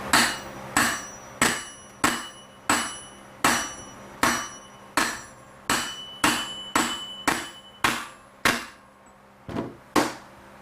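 A steel socket hammered to drive a parking gear into place during a Honda transmission rebuild: about fifteen sharp metallic strikes, close and loud, in a steady rhythm with ringing decay after each blow.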